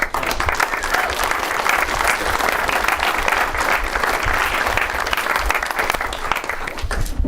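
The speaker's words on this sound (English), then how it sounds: "If you guys are tired of clapping, you don't have to clap." A crowd claps and cheers at a Bernie Sanders rally in Milwaukee, Wisconsin, in a loud, dense, sustained roar of applause that holds for the whole stretch.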